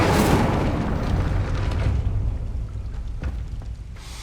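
A fire spell blast in Hogwarts Legacy bursts open with a loud, roaring whoosh that slowly fades into a crackling rumble, with no voices.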